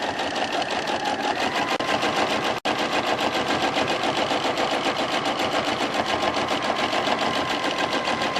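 A sewing machine stitches free motion quilting on a feathered border, a steady rapid mechanical whir that runs loud and continuous, broken once by a brief click.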